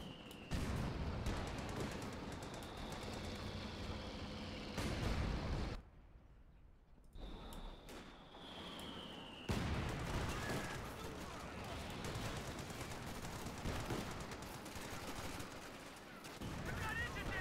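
Gunfire from a WWII strategy game battle between American forces with a Stuart tank, rifle grenades and anti-tank fire, sounding as dense, continuous bursts and booms across the clip under a commentator's voice, with a brief lull midway.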